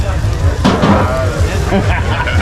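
Food sizzling on an outdoor grill at a halal food festival, a hissing crackle running under nearby voices talking, with occasional sharper clanks and pops.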